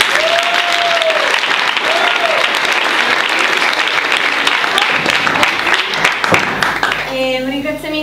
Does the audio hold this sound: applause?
yes